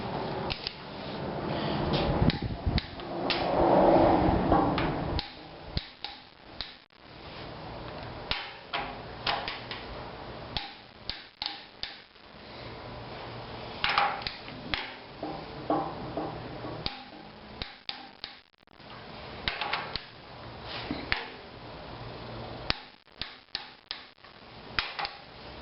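Torque wrench tightening head bolts on a Cummins diesel engine during a rebuild, heard as scattered close clicks and ratcheting taps with brief rattles, some louder bursts of handling noise, and no talking.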